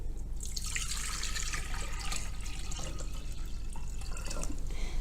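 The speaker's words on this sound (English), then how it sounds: "Just going to top that up with water." Water poured from a tap or jug into a plain glass fish bowl for a spring hyacinth arrangement makes a soft, steady trickling and filling sound, faint and close, with no talking.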